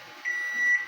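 An oven timer signals the end of cooking with a single sustained high electronic beep, clear and alone against a faint hum, lasting under a second.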